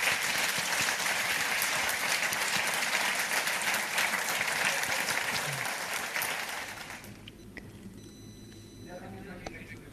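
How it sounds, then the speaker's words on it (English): A forum audience at an art conversation gives a sustained round of applause for Michelangelo Pistoletto, dense steady clapping for about six seconds before fading into room tone with faint beeps. "A big round of applause for Michelangelo Pistoletto."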